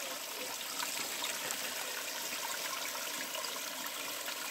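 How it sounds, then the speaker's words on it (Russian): Water spills steadily over the rim of a full thermal spring basin, a continuous soft splashing and trickling rush heard close by, fairly quiet and unbroken throughout, with no voices. "Сейчас она наполнилась и льется через край."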